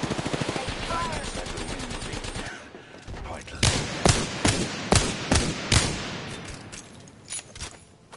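Rapid gunfire rattles in a shooter video game, first a dense fast burst, then a series of sharp, loud separate shots in an uneven rhythm, up close.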